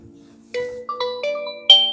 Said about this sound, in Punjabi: ਤਾਂ ਫੋਨ ਆ ਗਿਆ ਵਾ